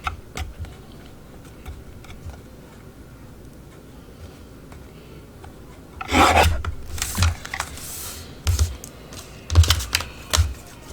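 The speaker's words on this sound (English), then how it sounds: "I am just going to stick this into the guillotine and cut it down like so." A paper guillotine slices through junk journal paper ephemera, giving a few loud, close rasping chops and scrapes in bursts after a quiet stretch of faint room noise.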